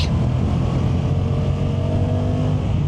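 Honda NT1100 touring motorcycle accelerating hard, a steady loud engine roar with strong low rumble held throughout without letup.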